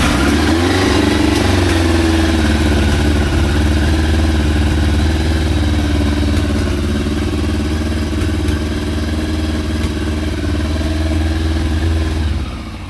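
A Yamaha FZR motorcycle engine, freshly fuelled and run on choke, catches and settles into a loud, steady idle close by, holding an even rumble for the whole stretch without talk.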